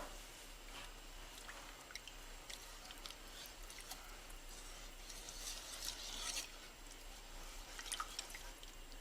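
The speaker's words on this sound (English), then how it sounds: "And then we'll stir that through with the whisk, and it's going to thicken up quite nicely." A whisk works milk into a thickening béchamel sauce in a pan, a quiet, continuous scraping and soft wet stirring with occasional light ticks.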